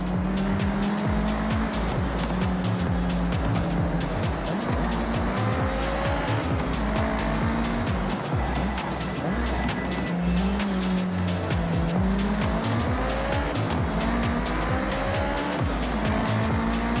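Cars race through a Forza video game with loud, continuous engine roar and repeated tire squeals and skids, steady and dense throughout with no talking.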